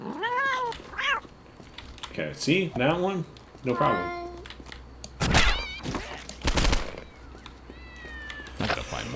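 A cat in the video game Postal 2 meows several times in short rising and falling cries, mixed with thumps and clatter of gameplay while someone talks over it.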